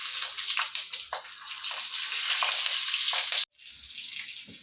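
Stuffed green chillies dropped one by one into hot oil, a loud continuous hissing sizzle with bubbling bursts that cuts out abruptly, then resumes at a slightly lower level.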